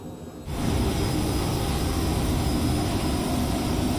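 A sudden rise into a loud, constant roar of Cessna Citation C510 Mustang jet engine noise during a first flight climb, broad and rushing, holding steady without pause.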